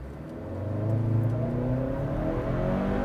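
Hyundai Santa Cruz pickup with a dual-clutch gearbox launching from a standstill at full throttle, the engine note rising steadily in pitch and loudness over a few seconds, heard from inside the cabin without talking.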